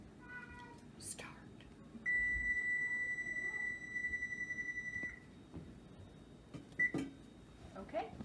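An oven control panel sounds a short beep followed by a long steady electronic tone while being set to preheat to 350, with quiet handling noises and a low voice around it.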